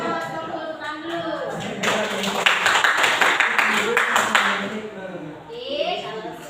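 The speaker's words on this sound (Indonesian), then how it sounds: "semua tepuk tangan dulu" A class of students claps hands together in a classroom, a burst of group clapping building in the middle and fading, with children's voices and chatter around it.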